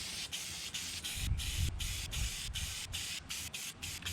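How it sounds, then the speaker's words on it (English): Close, steady hissing of an aerosol cleaner sprayed onto a Yamaha TW200 air filter, applied in a run of short bursts separated by brief pauses. "Just start spraying. Get it thoroughly. Get it very thoroughly. Get the edges."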